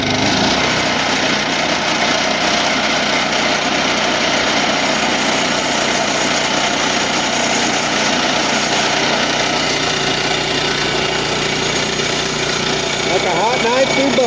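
Woodland Mills HM122 sawmill cutting a test log, a steady high-pitched small-engine drone with blade noise running loud and unbroken, with speech faintly mixed in.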